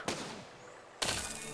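Two cannon shots in the physics-building game Besiege, each a sharp loud boom followed by a rumbling decay, about a second apart.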